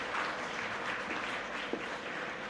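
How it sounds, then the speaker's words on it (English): Audience clapping at a Brahmo conference session, a dense, steady patter of many hands filling the hall, moderately loud and continuous with no speech over it. "Can we clap for her?"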